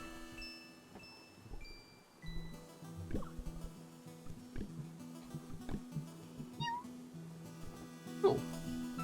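A cat meows in the video game Ikenfell, short clear mews in among soft game music and dripping chimes, with a sharper cry near the end and no talk.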